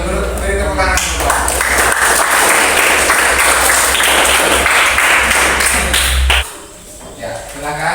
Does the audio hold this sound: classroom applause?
yes